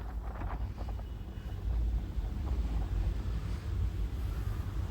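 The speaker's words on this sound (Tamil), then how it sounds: "அந்த கடல் அலைகள் அந்த பாறைகளுக்கு முத்தம் கொடுக்குற மாதிரி வந்து ஒவ்வொரு வினாடியும் வந்து வந்துட்டு வந்துட்டு வந்துட்டு அந்த அலைகள் வந்து திரும்ப போகிறது அந்த சத்தம்" Sea waves surge against the rocks at Muttom beach on the Kanyakumari coast, a steady roaring wash with rising swells, heavy wind buffeting the microphone, and no voices.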